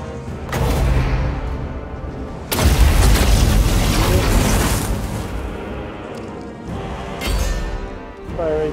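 Artillery firing in Total War Warhammer during a Bretonnia campaign battle, heavy booming blasts with long rumbling tails, one large near impact amid rolling distant explosions, game audio dense and loud.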